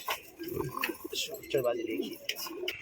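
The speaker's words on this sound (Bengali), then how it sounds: "এখানে নিচে বাজি পায়রা রয়েছে" Pigeons in a loft, including a white-eyed bird, give short, throaty coos close by among light rustling and clinks, with someone talking over them.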